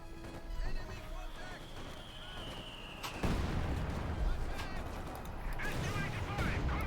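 A Panzerschreck anti-tank rocket launched in the wartime strategy game Company of Heroes 2, a single sharp blast followed by a rushing burst amid battlefield gunfire and explosions, with a commentator talking over it.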